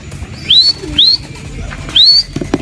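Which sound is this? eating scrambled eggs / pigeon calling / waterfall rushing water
pigeon calling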